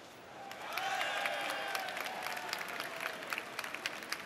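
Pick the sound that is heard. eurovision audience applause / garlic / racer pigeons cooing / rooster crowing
eurovision audience applause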